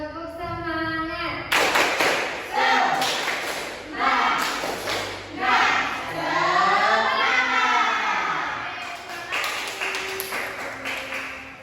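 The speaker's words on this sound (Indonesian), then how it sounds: "Tepuk semangat." Students in a micro-teaching class do a rhythmic spirit clap led from the front, sharp hand claps in a patterned beat mixed with children's voices chanting along, the claps and talk filling the whole stretch.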